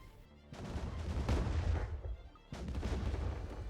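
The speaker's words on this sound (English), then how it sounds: "Let's go ahead and bombard this planet." A planet is bombarded in the space strategy game Distant Worlds 2, with two waves of rumbling blasts and gunfire-like bursts, each starting abruptly and rolling on for a second or two, moderately loud.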